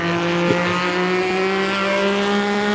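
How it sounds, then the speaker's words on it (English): Loud Ford race car engines on an endurance racing circuit roar steadily and close up, a continuous sustained drone with a slight tire squeal, no voices. "It's just these damn Ford engines are ridiculously loud"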